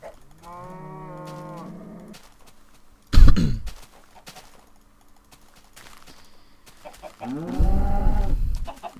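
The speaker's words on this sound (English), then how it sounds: "Do you guys get annoyed with animals, like animal sounds, just constantly?" Farm animals in the Minecraft video game: a long drawn-out cow moo, a sharp loud burst, then another moo rising near the end, with no talk over it.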